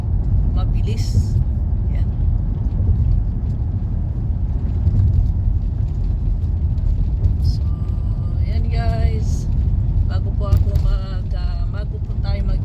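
A car drives over a flyover with a steady low rumble of engine and road noise throughout, while voices and other passing traffic sounds rise briefly over it.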